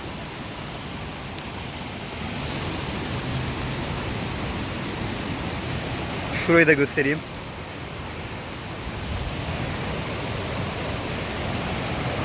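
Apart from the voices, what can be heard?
waterfall and Fırtına stream rushing at Ayder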